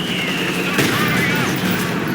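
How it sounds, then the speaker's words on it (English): Battle noise from Company of Heroes 2, a WWII strategy game, with an assault gun firing: a steady roar of gunfire and rumble, and one sharper burst partway through, lasting about two seconds. "Assault gun firing."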